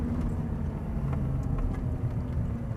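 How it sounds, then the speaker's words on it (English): An Audi R8 rolls slowly through a U-turn near a motor speedway, its engine a steady low rumble with road and tire noise that stays even and close throughout. "Nice and slow, we're going to make a U-turn"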